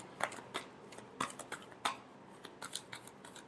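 Tarot cards being shuffled, a quiet series of crisp riffling snaps and flicks in uneven bursts, close by, with no talking.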